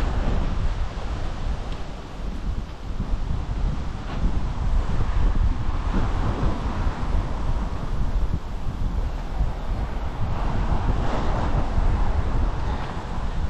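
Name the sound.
strong wind at Filby Broad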